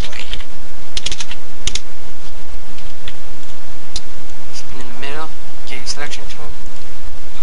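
Rapid clicking of keys on a computer keyboard in quick bursts, close and loud over constant background hiss, with a voice talking briefly partway through.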